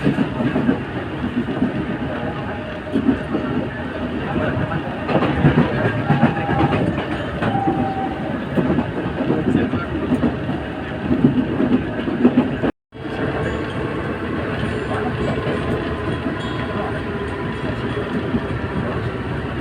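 A KRL Loopline commuter train from Bogor rumbles steadily along the rails with rhythmic clacking and wheel noise, loud and close throughout, with a brief cut in the sound partway.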